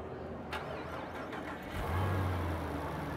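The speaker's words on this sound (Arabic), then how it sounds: "وهذا صوت المحرك." Supercharged 6.2-litre V8 of a Jeep Grand Cherokee Trackhawk, heard nearby as a steady engine drone that swells into a louder, deeper rev partway through and holds there, with no voices.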